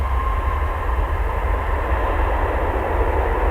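A jet airliner taking off at Dallas/Fort Worth airport, a steady, heavy low rumble with a faint whine above it, holding constant and loud throughout with no voices.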